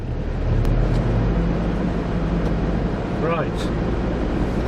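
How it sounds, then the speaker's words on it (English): A Land Rover Discovery 2 drives along with a low, steady engine rumble and road noise from inside the cabin, while someone says a brief word. "This is a little test drive"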